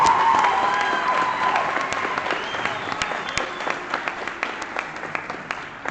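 Applause for award recipients at a school award ceremony: a crowd clapping continuously, loud at first and gradually thinning to scattered claps, with faint cheering and children's voices in the hall.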